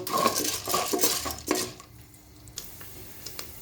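Half a cup of popcorn kernels stirred in hot oil in a pot gives close metallic scraping and rattling, busy for the first couple of seconds, then thinning to scattered light ticks.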